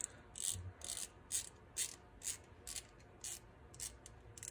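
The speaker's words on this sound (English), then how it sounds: "I'm using this one that is meant for a nut driver on this small little ratchet here" Small ratchet with a nut-driver socket clicking as it turns wheel hub bolts on a 2012 Ford Fusion, about ten quick separate bursts of sharp clicks, close and fairly quiet, with no talking.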